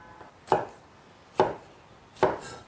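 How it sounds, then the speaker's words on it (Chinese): A knife chops garlic sprouts and green peppers on a cutting board in three separate, evenly spaced strokes, each a crisp, close thud with short gaps of quiet between them. "再来上一根蒜苗和青椒，打斜刀切成马耳朵，青椒切成滚刀块"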